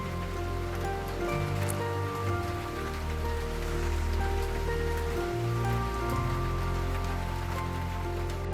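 Steady rain patters on a surface, a continuous even hiss with soft drips, unbroken for the whole stretch.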